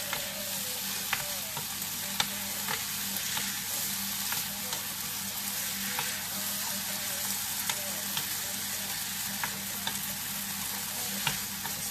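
Seafood paella sizzling and frying steadily in a hot pan for keto low-carb cooking, a continuous close crackle with occasional clicks of stirring, no talk.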